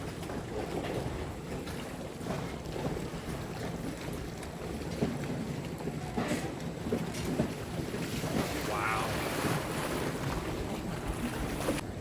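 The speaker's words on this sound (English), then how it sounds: "We got some waves coming in." Ocean waves roll and splash around a wing foiler on open water, under steady wind buffeting the microphone, with rushing surf swelling in the second half and no voices.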